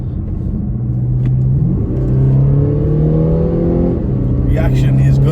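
An Audi A7 3.0 BiTDI Quattro Black Edition accelerates hard, its diesel engine note rising and pulling through gear changes, heard from inside the car and loud and continuous, with someone talking over it.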